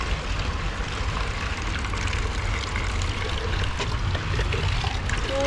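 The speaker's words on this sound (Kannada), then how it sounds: "ಸೊ ಅದಕ್ಕೆ ಗಿಡಕ್ಕೆ ನೀರು ಹಾಕ್ತೇವೆ" Water is poured onto garden plants during hot weather, a steady, continuous splashing rush that stays even and fairly close throughout, with no talking.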